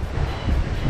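Steady wind buffets the microphone with a low, continuous rumble, close and fairly loud throughout.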